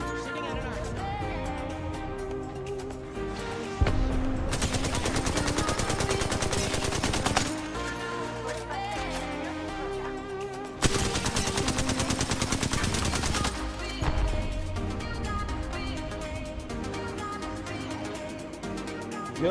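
Rapid automatic gunfire in a first-person shooter video game, loud sustained bursts of fire alternating with brief lulls, layered over music-like game audio with no speech.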